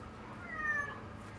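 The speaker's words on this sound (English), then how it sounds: "just came out and meowed at me" A house cat gives a single drawn-out meow, fairly soft and close, over a low steady background hum.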